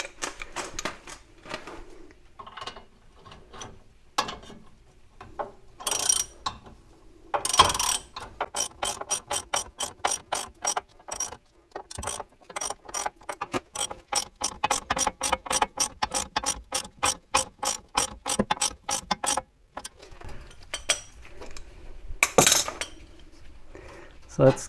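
A hand ratchet clicks in quick rapid bursts and longer runs as bolts are tightened on a C3 Corvette front suspension (steering knuckle, shock and hub), with metallic clinks and pauses between strokes, close and clear.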